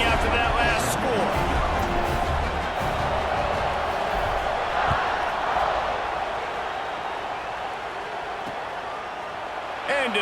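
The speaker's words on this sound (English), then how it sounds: "this crowd is buzzing after that last score" A stadium crowd in the College Football 26 Iron Bowl game between Auburn and Alabama keeps up a steady buzzing roar, with a commentator talking over it the whole time.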